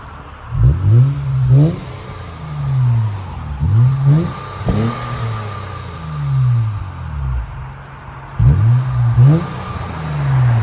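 A 2005 Acura RL with dual exhaust and a muffler delete is revved repeatedly, its engine rising and falling in loud, close blips with short idle gaps between.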